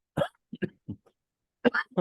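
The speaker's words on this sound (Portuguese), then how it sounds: "Perdão. Soluço de nada." A person hiccups several times in quick, sharp bursts, close and clear, with short pauses between them and silence around.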